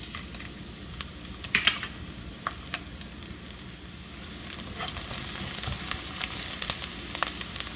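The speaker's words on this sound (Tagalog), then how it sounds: "At ngayon po, mainit na rin po ang olive oil. Pwede na po natin ilagay ang bawang." Garlic frying in hot olive oil in a pan makes a steady close sizzle and crackle, with occasional utensil taps as it is stirred, the sizzle growing slightly louder toward the end.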